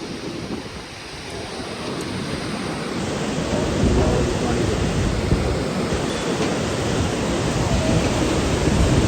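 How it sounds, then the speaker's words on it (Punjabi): A fast, swollen mountain river rushes along the trail from Govind Ghat to Govind Dham, on the Hemkund Sahib pilgrimage route. It makes a loud, steady broadband roar that fills the whole clip with no break. "ਨਦੀ ਦਾ ਖੜਕਾ ਸੁਣਦਾ ਪਾਣੀ ਕਿੰਨਾ ਤੇਜ਼ ਦੇ ਕਿੰਨਾ ਪਾਣੀ ਆ ਰਿਹਾ ਨਾ"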